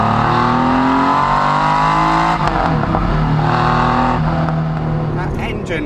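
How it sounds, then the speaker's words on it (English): Porsche 993 RS engine revving loudly and close, a sustained throaty drone that dips slightly mid-way and climbs again, with a voice speaking over it. "That engine goes really well and it sounds so good."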